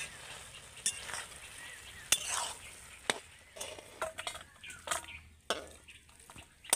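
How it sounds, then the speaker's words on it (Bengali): Cooked ash gourd with a little sugar being stirred in a pan, with soft scraping and light sizzling plus several sharp clicks of the spoon against the pan, quiet and close. "তাই শেষে অল্প চিনি দিয়ে এইভাবে একটু নেড়ে চেড়ে কিন্তু নামিয়ে নিতে হবে।"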